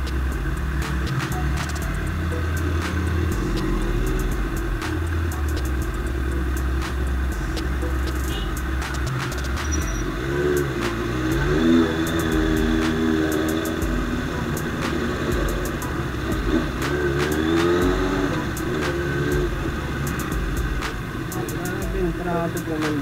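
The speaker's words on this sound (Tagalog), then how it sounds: "Traffic naman dito." Road traffic with cars and trucks around a motorcycle in Taytay, Rizal, a steady loud engine rumble with idling and passing vehicle tones, continuous throughout with a rider's voice talking over it at times.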